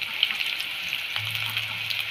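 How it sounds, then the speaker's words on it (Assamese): Ants tossed into a pan frying with sliced onion, a brief, loud, steady sizzle heard up close with a light stirring tap near the start. "পৰুৱাখিনি দি দিম সোনকালে"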